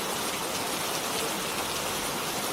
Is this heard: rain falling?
yes